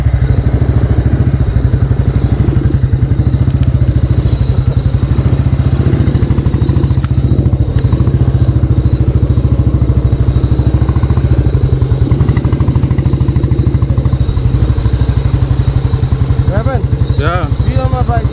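KTM RC motorcycle engine running on the road, a loud constant close throbbing rumble with rattling clatter throughout, while a voice speaks faintly over it.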